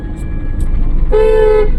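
One long, steady car horn honk sounds close by over a low idling engine.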